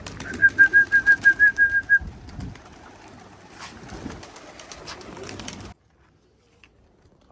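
A domestic pigeon coos nearby in a quick burst of about a dozen rhythmic notes, followed by softer rustling and faint flapping before near silence.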